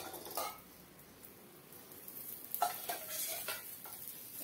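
Oil poured into a pan sizzles softly, with a few light clinks and scrapes of a utensil, quiet and close, with no voices.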